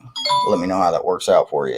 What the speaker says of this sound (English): That's just my phone. I got chimes coming from all sides at this particular moment.